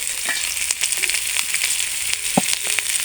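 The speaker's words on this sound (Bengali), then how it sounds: "সব কিছু সুন্দর করে ভেজে নেব।" Chopped cabbage and carrot frying in a pan for egg chowmein, giving a steady, close crackling sizzle with small pops and light stirring scrapes throughout.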